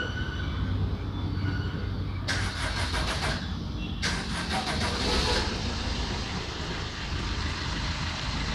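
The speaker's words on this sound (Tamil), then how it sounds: "இப்போ பார்த்தீங்கன்னா இன்ஜினோட சவுண்ட்லாம் கம்மியாக இருக்குங்க" A car engine idles smoothly after air filter cleaning and decarbonizing, a steady, dense hum that runs the whole time with brief bursts of higher hiss partway through.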